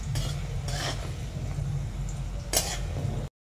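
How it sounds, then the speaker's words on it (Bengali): Kucho nimki, small cut pieces of fried dough snack, frying in hot oil with a steady low bubbling under occasional scraping and clinks of a utensil against the pan. "আর কিছুগুলো আছে সেগুলো সেম প্রসেসে আমরা ভেজে নিচ্ছি।"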